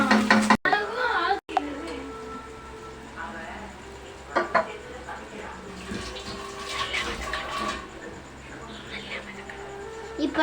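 Paneer butter masala ingredients stirred in a pan with irregular scraping and clattering, joined by watery sloshing, close and moderately loud against a steady background hum.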